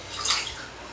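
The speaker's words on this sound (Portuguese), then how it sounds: "Aí você põe a água tônica," Tonic water is poured into a glass of vodka and mint tea drink, a brief fizzy splash and trickle that swells and then settles into a soft hiss.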